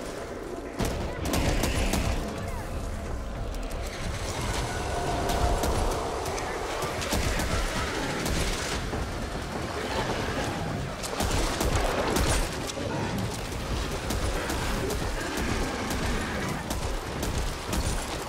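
Sustained gunfire in the zombie shooter Back 4 Blood, dense rapid volleys of shots and crackling bursts throughout, steady and fairly loud, with a voice talking intermittently underneath.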